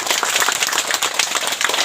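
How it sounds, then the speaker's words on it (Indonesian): Applause from an audience at a retirement farewell ceremony, a steady wash of many hands clapping at even loudness throughout, with no voices over it. "Mari kita tepuk tangan dulu."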